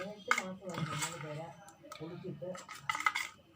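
A homemade skin pack is stirred with rose water in a bowl, giving light clinks and scraping under continuous talking.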